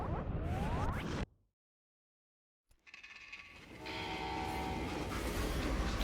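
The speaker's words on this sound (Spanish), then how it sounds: "How'd they stop this train in the first place?" Train in the game Call of Juarez Gunslinger coming to a stop, loud rumbling and screeching metal, a sudden cut to silence, then hissing, grinding rail noise with a sustained high whine.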